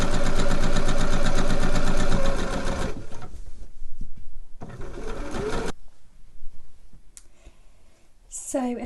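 A sewing machine runs fast and evenly, stitching a channel around a trouser waistband, loud and close, then stops, followed by short bursts of stitching and light clicks and handling sounds.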